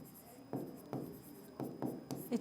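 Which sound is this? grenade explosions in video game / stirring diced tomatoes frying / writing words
writing words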